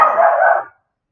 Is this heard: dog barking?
yes